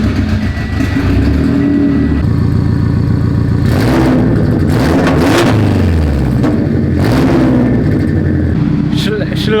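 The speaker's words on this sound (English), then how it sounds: "I kind of want to see how this car sounds with no exhaust at all" A Toyota FRS engine with no exhaust, resonator, catalytic converter or mufflers idles loud and raw, then revs hard in several sharp bursts, very near.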